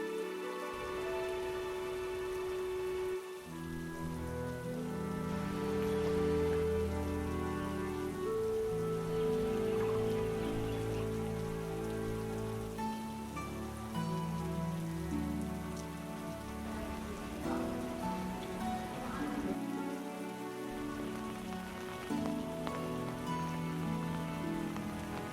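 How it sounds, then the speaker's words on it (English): Steady, continuous rain falls on a Qing dynasty family mansion garden in Taiwan, building in weight over about 25 seconds, with a sustained melodic tonal layer running over the downpour. "the rain kept getting heavier and heavier"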